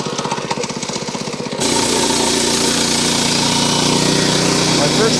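A sawmill blade bites into a log to cut lumber: a rapid rattling engine chatter gives way abruptly to a louder, sustained grinding cut that stays steady, close and dominant, with speech mixed in.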